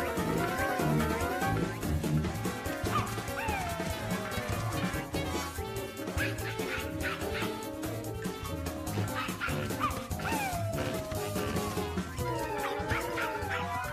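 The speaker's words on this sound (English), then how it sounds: "The barking sounds like it's coming from the old cave." A cartoon dog barks and yips from a cave over busy background music, its repeated barks and whimpers fairly quiet and partly buried in the score.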